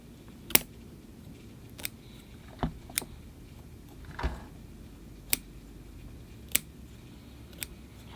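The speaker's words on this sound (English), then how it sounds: "So I'll get out the little scissors and we'll do some pruning." Small scissors pruning a succulent bonsai snip about eight times, each a sharp, close click with irregular gaps between cuts over a faint room hush.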